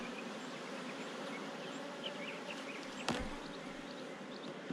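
Honey bees from a hive with a history of aggression hum steadily throughout an open inspection, a continuous close buzz with occasional louder passes and a sharp knock just past the midpoint.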